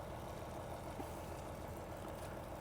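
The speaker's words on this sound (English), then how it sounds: "He has a 3500 Predator generator." A Predator 3500 generator engine runs at a steady idle, a constant mid-low mechanical drone with a faint knocking texture, moderately close and without any voices.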